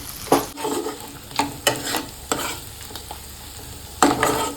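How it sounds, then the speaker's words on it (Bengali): Boiled potatoes are mashed in a pan of fried onions and mustard oil, with repeated scraping, pressing strokes over a soft background sizzle, close and irregular in rhythm. "আলুগুলো ভালোভাবে ম্যাশ করে নিই"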